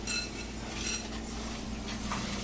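A wooden spoon stirring white chocolate melting in a hot pan, a short close scraping and soft sizzling sound with light clinks against the pot.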